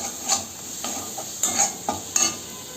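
Spice paste with turmeric and salt frying in a pan for Bengali katla fish kalia, a close, light sizzle with repeated spoon scrapes and stirring strokes at an uneven pace.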